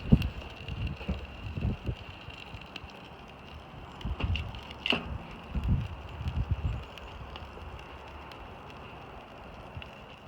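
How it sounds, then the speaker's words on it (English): Strong gusts buffet around a burning homemade pine-oil fire starter outdoors, producing uneven low rumbling bursts with faint crackle and rustle between them. "even with the wind blowing like crazy, it's still burning really nice."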